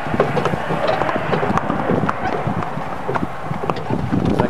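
Horses' hooves clip-clopping on a street, a steady rhythmic series of hoof strikes close by with some wind noise across the microphone.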